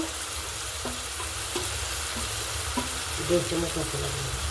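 Garlic paste fries in a pan as chili powder is added, a steady close sizzle with occasional stirring scrapes and small clinks.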